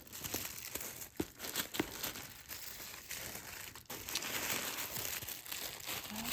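Packaging around a Chanel 24K bag is torn and unwrapped, giving soft, close crinkling and ripping of paper with a few sharper tears, all fairly quiet and with no talk.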